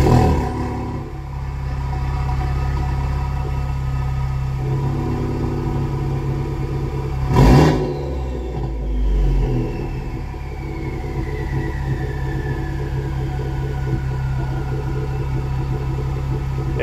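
A straight-piped Ford Focus RS with an MBRP exhaust warm-starts, settling into a loud, steady, deep rumble close by, with one sharp roaring burst partway through before the idle resumes.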